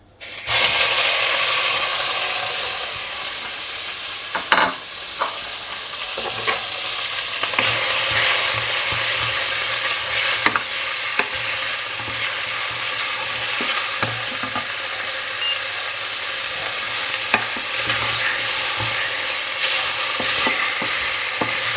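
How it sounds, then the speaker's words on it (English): Pork meat browning in a little olive oil in a pan for a Murcian tapa, a loud, steady close-up sizzle with scraping and clicking from constant stirring, no talk. "And we want to brown the pork meat."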